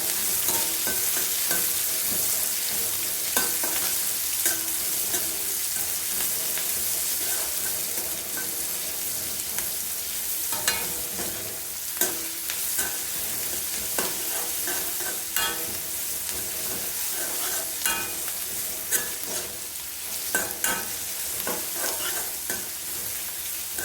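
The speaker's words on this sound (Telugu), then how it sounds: "ఇలా ఆనియన్స్ ఫ్రై చేసుకోవాలి." Onions fry in a pan with chana dal, urad dal and curry leaves, stirred continuously. A loud, steady sizzle runs close and unbroken, dotted with frequent scraping and clicking from the stirring, and no one speaks.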